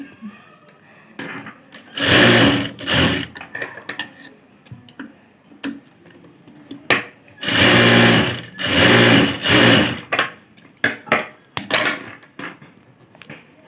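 A sewing machine stitches a blouse, running along a folded strip of fabric in several loud bursts of rapid mechanical clatter, with longer runs near the start and middle and quick short bursts between quiet pauses.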